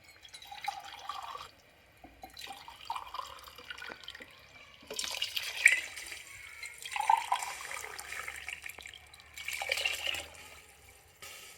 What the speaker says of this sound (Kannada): ಮೂರು ಗ್ಲಾಸ್ ನೀರು ಹಾಕ್ತಾಯಿದ್ದೀನಿ